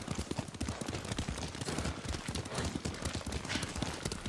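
A horse gallops in the Ghost of Tsushima video game, its hooves clopping in a fast, steady rhythm, loud and close over a rushing background.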